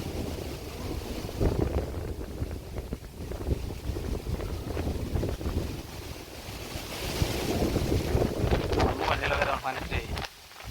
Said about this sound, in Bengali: বাতাস